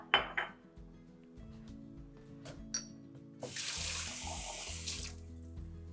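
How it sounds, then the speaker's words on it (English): Water splashes into a batch martini mix of vermouth and spirits for about two seconds, a loud rushing pour following soft kitchen clinks and taps of glass and utensils. "and then I'm going to add a splash of water."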